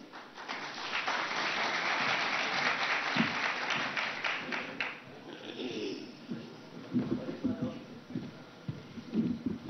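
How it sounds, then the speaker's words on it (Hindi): An audience claps to welcome a guest onto the stage, a few seconds of moderately loud applause that fades into quieter rustling and background noise. "जोरदार तालियों से उनका स्वागत कीजिए"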